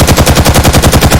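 Thompson submachine gun firing in The Suffering remake, a horror video game, as a loud, rapid burst of evenly spaced automatic shots with no pauses.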